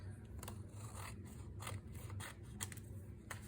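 Scissors trimming the edge of a paper double pocket folder insert, with a steady soft scraping and a few sharper snips spread across the clip, close and fairly quiet with no talking.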